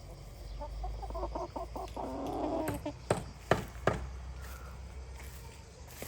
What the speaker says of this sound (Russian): Цыплята с квочкой.